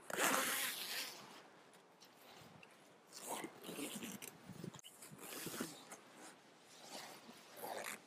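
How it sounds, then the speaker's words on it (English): A zipper on a Dutchware Gear Chameleon hammock is pulled closed in several quick, rasping strokes, close by, with pauses between pulls. "Zipping it up."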